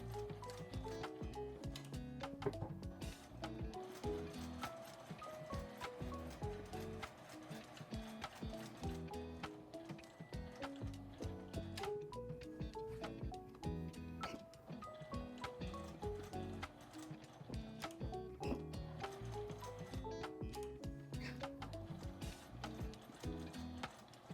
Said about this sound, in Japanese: 印の上を縫います。